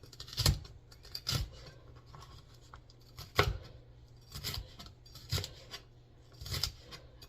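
Onion is diced with a knife on a cutting board: seven or so sharp, close chops at an uneven, unhurried rhythm, with no voices.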